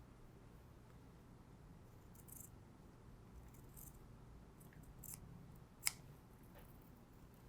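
Scissors snipping through a narrow 0.5 cm seam allowance of fabric on a miniature traditional Korean coat, faint soft cuts with one sharper snip near the end, alone in a quiet room.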